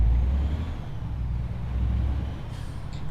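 A MAN Lion's Coach bus engine in the video game Euro Truck Simulator 2 idles with a deep, steady rumble, a faint hiss rising near the end; no voices.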